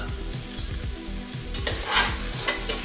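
Ground masala fries in oil in a pan for corn pulao, giving a dense sizzling hiss. A spoon stirs it with quick, rhythmic scraping strokes, and the sizzle flares up loudly near the end.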